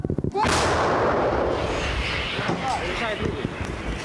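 A heavy artillery gun fires once with a loud, sharp blast that rolls off into a long echoing rumble, with brief voices around it.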